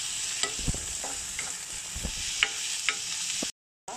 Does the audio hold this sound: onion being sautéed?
yes